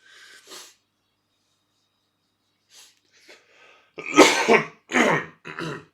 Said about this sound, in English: Can't stop coughing this morning.